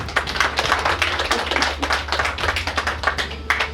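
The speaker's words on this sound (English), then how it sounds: "Clap if you want to clap." An audience at a talk on gender-based violence and fistula claps in a loose, uneven patter of hands, close and fairly loud, steady for a few seconds over a low background hum.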